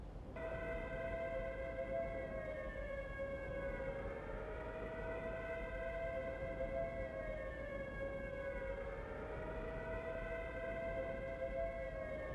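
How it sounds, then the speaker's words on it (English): Air raid sirens wail in a World War II prison camp setting in the video game Prisoner of War, steady and loud, with rising and falling tones that sweep slowly over the whole stretch, and no talking. "Have the chaps ready to move as soon as we hear those air raid sirens."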